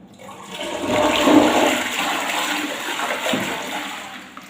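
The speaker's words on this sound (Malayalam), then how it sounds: "അതിനുശേഷം നമുക്ക് ജസ്റ്റ് ഒന്ന് ഫ്ലഷ് ചെയ്യാം" A toilet flushes up close, a loud rushing swirl of water that swells quickly, then gradually drains and tapers off.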